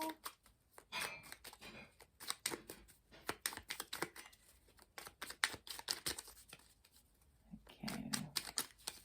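Tarot cards shuffled by hand in dense, irregular bursts of crisp flicking and riffling, close and moderately loud, with brief pauses between runs and no talking.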